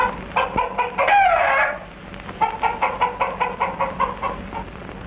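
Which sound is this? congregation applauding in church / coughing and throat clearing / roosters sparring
roosters sparring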